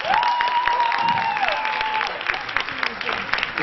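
An audience claps in sustained applause at a live stage show in Bagnols-sur-Cèze, a dense crackle of many hands filling the room, with a high whistle rising briefly above it near the start.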